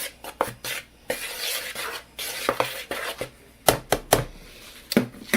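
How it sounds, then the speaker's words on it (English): Flour mixed with baking powder being stirred in a bowl for pan pizza dough, a run of scraping, rubbing strokes with sharp utensil clicks against the bowl, fairly close and uneven in rhythm, with no talking. "Give that a stir."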